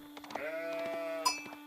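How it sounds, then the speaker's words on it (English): Sheep bleat in the video game Empirical Eras: the Fourth: one long, wavering, nasal bleat heard close and clear, with a brief extra sound near its end. "Oh, more sheep."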